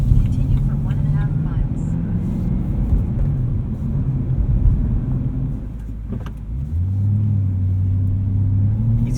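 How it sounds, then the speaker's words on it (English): A naturally aspirated V8 engine in an E92 BMW M3 Lime Rock Edition with a 6-speed manual rumbles low and steady while driving uphill, with a shift in pitch partway through; a voice talks over it. "No piped-in engine noise. Just naturally aspirated V8."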